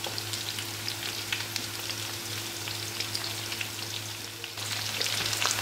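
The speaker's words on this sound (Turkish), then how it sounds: "Böyle iyice harmanlayıp kızartacağım." Cauliflower fries in hot oil with a steady, soft sizzle and faint crackles, growing slightly louder near the end.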